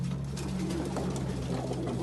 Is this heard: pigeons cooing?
yes